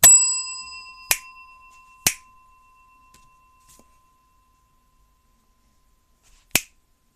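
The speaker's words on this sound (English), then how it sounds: "You ring the bell." A bell rung during a tabletop version of the game Inscryption: one bright ring sounds at the start and slowly fades. Three sharp taps or clicks follow about one, two and six seconds later, and no one speaks.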